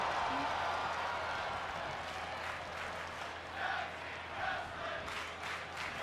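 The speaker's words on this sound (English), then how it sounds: "And the crowd is chanting for tag team wrestling." A wrestling arena crowd chanting during a tag team match, a dense roar of voices with rhythmic rising chant bursts, moderately distant and continuous.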